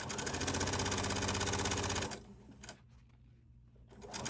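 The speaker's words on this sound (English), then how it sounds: "Just turn it over as I'm stitching, rolling it with my hands as I go." A sewing machine runs in a fast, steady whir for about two seconds while stitching the hem of a Hawaiian shirt rolled by hand without pins, then stops, leaving quieter handling sounds.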